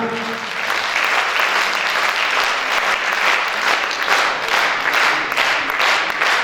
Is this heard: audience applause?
yes